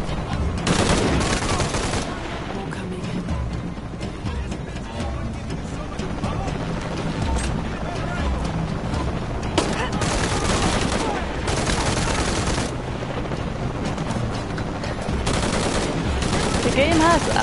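Gunfire in Shadow of the Tomb Raider, loud, dense bursts of shots and automatic fire that run nearly nonstop, mixed with game noise.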